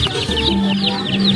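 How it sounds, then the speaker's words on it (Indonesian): A chicken clucks close by in a quick string of short, repeated calls with a faint background hum underneath. "Wow, ada ayam teman-teman."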